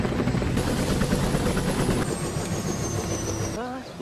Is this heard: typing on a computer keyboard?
no